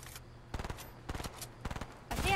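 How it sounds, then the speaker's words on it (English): Fortnite gunfire comes in four short, fairly loud bursts of rapid shots, evenly spaced about half a second apart, over quiet in-game background ambience. "Shoot this, boys."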